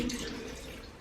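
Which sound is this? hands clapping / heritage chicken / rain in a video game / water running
water running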